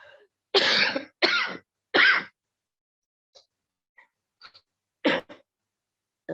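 Three loud, close coughs come in quick succession, then a pause with soft throat noises, and another single cough follows.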